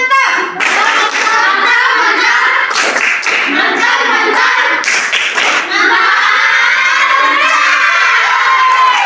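Young children clap in unison and shout cheers in a Bible lesson class for early-childhood learners, loud, dense and continuous with repeated rhythmic bursts of clapping throughout.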